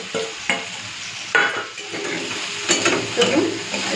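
Taro stolons (kochur loti) with salt and turmeric fry in a pan, a soft steady sizzle broken by repeated scraping clacks of a spatula stirring against the metal, close and with no voices.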